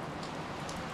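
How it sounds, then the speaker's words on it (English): Rain pours steadily outdoors by the Tobacco River in Eureka, Montana, a dense even hiss of drops with no gaps and no voices. "Oh, it is raining out here."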